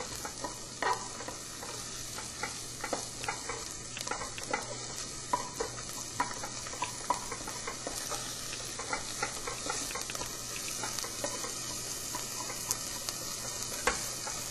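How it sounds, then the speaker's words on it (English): Chopped onions fry in a soup pot, a soft continuous sizzle broken by frequent small spoon scrapes and taps, close by with no talking. "add in our chopped onions. And you want to just cook the onions until they're translucent"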